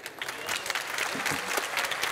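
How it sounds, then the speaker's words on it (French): A conference audience at the Paris Air Lab claps steadily and loudly to welcome a guest, a dense wash of applause from a crowd that holds its level for a couple of seconds. "Veuillez faire un tonnerre d'applaudissements à notre invité exceptionnel, Thomas Pesquet."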